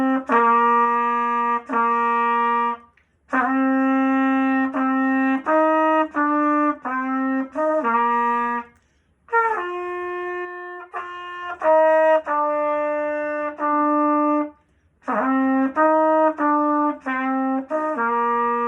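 A brass instrument plays a beginner scale exercise climbing to a high G, clear sustained notes in short phrases separated by brief pauses, played close and fairly loud with no talking.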